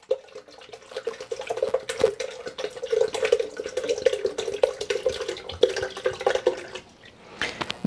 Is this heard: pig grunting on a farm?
no